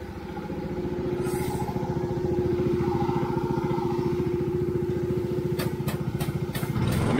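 An All-Flo air-operated diaphragm pump runs close by during priming, chugging in a fast, steady rhythmic pulse with a faint hiss and a few clicks near the end.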